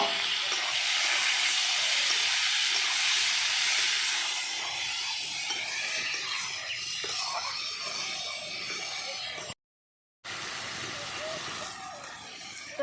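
Onions and tomatoes fry together in a hot pan for an egg and tomato curry, giving a loud, steady hissing sizzle. It softens slightly after a few seconds and cuts out briefly near the end.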